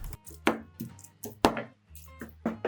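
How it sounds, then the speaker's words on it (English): A wooden spatula presses and breaks cooked salmon into tender flakes for a Japanese rice topping, making a few soft, close taps and squishes against the pan over a low steady background. "I'm gently pressing and breaking up the salmon"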